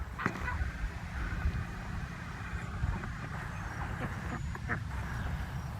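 A goose on a farm gives a few faint, distant honks over steady outdoor background noise and low rumble, with no nearby voices.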